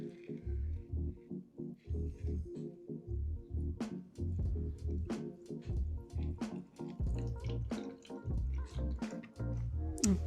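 Water poured from a watering can onto freshly repotted plant substrate lands in a series of soft splashes and drips, uneven and close, with quiet background sounds between pours.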